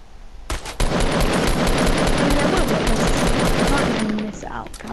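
Sustained automatic gunfire from Fortnite rattles loud and close for about four seconds, a dense continuous burst that cuts in abruptly and tapers off near the end.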